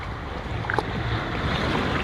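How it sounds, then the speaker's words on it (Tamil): Sea waves break against a shore at the beach, a steady loud wash of surf and wind filling the whole stretch, with no talk over it. "ஆனால் இதில் வந்து அலையெல்லாம் அங்கே அடித்து துவைச்சிட்டு இருக்கு பாருங்கள்."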